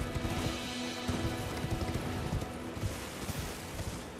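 Horse hooves pounding in a gallop in the video game Elden Ring, a rapid rhythmic clatter of hoofbeats running continuously at close range.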